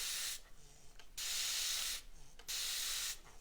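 A fine-mist spray bottle filled with distilled water gives three loud, close squirts, each a breathy hiss lasting most of a second, separated by short quiet pauses.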